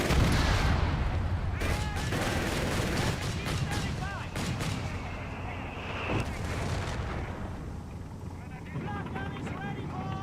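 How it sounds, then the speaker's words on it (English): White phosphorus artillery rounds in Company of Heroes 3 land in a steady barrage of booming impacts and crackle, with a voice talking over the battle noise throughout. "keep spamming the white phosphorus rounds on it."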